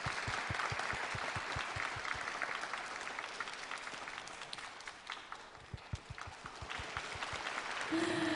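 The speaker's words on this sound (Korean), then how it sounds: "박수 한번 주시죠, 여러분." Audience applause at a televised song contest in Jinju greets the oldest contestant coming onstage, a moderate broadband clatter of many hands through most of the stretch, with rhythmic low thumps early on and a voice entering near the end.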